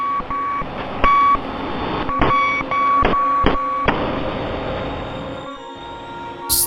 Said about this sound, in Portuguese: a torre de controle recebeu a última mensagem em código Morse